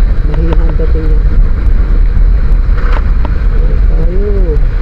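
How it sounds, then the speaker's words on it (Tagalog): Strong wind buffets a helmet-mounted microphone in a loud, steady low roar for the whole stretch, with a faint voice briefly speaking underneath. "Lakas ng hangin lakas ng hangin."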